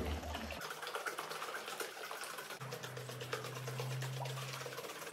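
A jar holding soil and water shaken by hand, giving a continuous wet sloshing and churning, fairly close and steady, with a low hum underneath and no talking.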